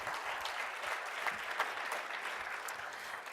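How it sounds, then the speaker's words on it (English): A crowd at a Washington, D.C. mayoral accountability report event held at Gallaudet University gives itself a steady round of applause, continuous clapping with occasional sharper claps, moderately loud and without talk. "Give yourselves a round of applause."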